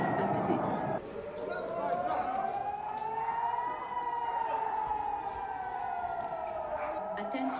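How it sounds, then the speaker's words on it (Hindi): An air raid siren wails at an airport, a continuous rising and falling tone that sustains throughout at moderate distance, with faint background noise beneath it. "अब तनाव इस कदर बढ़ चुका है कि एयरपोर्ट पर सायरन सुनाई पड़ रहे हैं"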